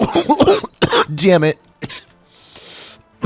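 Repeated harsh coughing from a streamer playing Cave Story, several close bursts mixed with speech and a pained vocal strain, then a quieter breathy stretch.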